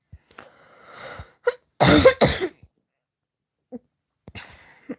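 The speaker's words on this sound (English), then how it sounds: "I'm just coughing" A few harsh, loud coughs in a short burst, with some breathing and quiet vocal sounds around them.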